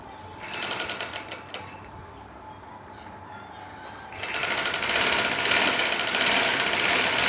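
A sewing machine runs close by, stitching an angled seam right along a fabric edge. The steady mechanical whir stays fairly loud throughout and grows stronger and denser in the second half, with no talking.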